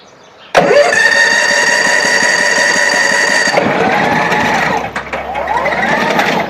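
A Kaiser remote-controlled mulcher's engine starts with a sharp catch and settles into a loud, steady, high-pitched drone that drops in pitch partway through, with a few clicks near the end.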